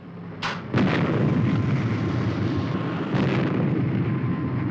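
Loud roaring blasts erupt in sudden bursts, then sustain as a continuous thunderous jet engine roar close by.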